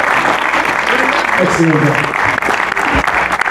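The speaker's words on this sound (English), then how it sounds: "So give her a round of applause." Audience at a music video award presentation applauding the winner, a steady wash of clapping with a person speaking briefly over it.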